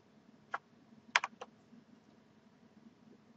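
A few keys are tapped on a computer keyboard while a number is entered into a Visio 2010 data field: one click, then a quick cluster of three, close and crisp over a faint steady hum.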